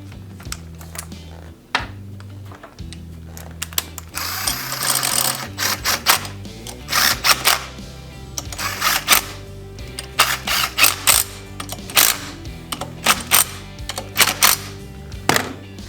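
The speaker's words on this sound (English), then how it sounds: "Thread a bolt in, and a bolt, and a bolt, and another." Bolts being threaded by hand into a Honda GXV 530 fuel pump manifold, with close, irregular metallic clicks, taps and ratcheting bursts that grow busier over the span.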